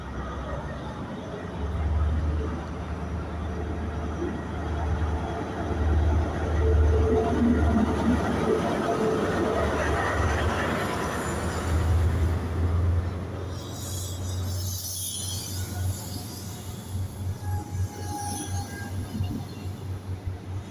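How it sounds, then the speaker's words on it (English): HST locomotive 43183 pulls out of Stirling station on an Aberdeen to Glasgow Queen Street service: a loud, rumbling diesel engine and rolling wheels build, then rhythmic clatter over the rail joints and a squeal near the end. "43183 is about to depart from Aberdeen to Glasgow Queen Street also. That's departing first."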